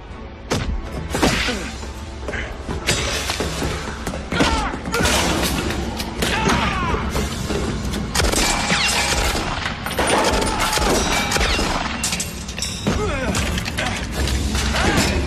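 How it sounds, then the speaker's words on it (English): Missile launch effects in a 1997 action film, a dense barrage of booming thuds, whooshes and mechanical clatter layered loud and continuous, with a shout cutting in near the start. "Initiate launch on both missiles."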